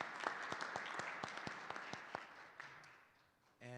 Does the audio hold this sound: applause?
yes